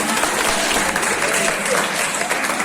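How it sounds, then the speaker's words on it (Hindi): Loud, dense applause for a lecturer at a college seminar fills the clip, a steady wash of clapping from a seated audience with no breaks, and faint voices mixed in underneath. "मनीष सर जी के लिए जोरदार तालियां"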